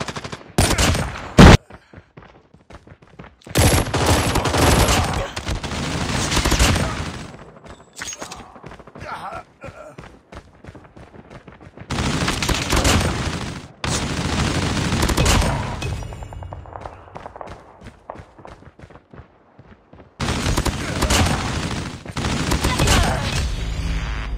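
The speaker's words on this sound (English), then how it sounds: "Sentry gun." Automatic sentry gun in a free-for-all video game match firing long rapid bursts, loud and close, broken by short pauses across the stretch.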